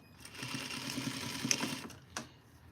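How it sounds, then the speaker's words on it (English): A sewing machine stitches a long facing onto a duster made from Simplicity pattern 8059, a steady close mechanical whir that runs for about two seconds, then stops with a click. "So let's sew the facing on this way"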